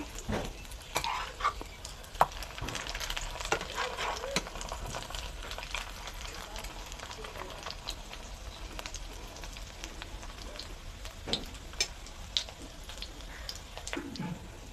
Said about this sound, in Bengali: গ্যাসের ফ্লেমটা আমি মিডিয়ামে রেখে ভেজে নেব।